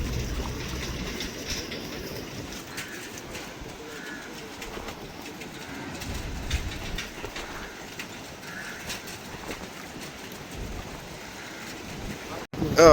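Storm water from a cyclone rushing and swirling past the Sangupiddy bridge, a continuous broad roar that swells and eases slightly without pause, with a sharp knock near the end.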